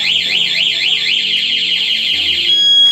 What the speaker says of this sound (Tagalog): i-activate lang sir ang alarm system.